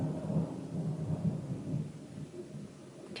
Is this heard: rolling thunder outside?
yes